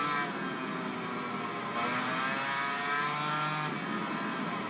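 A high-pitched motorcycle engine in the PS2 racing game Tourist Trophy screams steadily with harmonic whine, rising and falling slightly as it revs, continuous and loud throughout.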